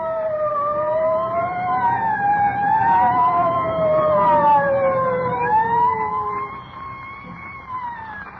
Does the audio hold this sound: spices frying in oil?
no